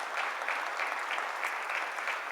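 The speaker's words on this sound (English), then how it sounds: "So if we could give a nice round of applause for Cognizant" A summit audience gives a steady round of applause, dense clapping that fills the room evenly from start to finish with no talk over it.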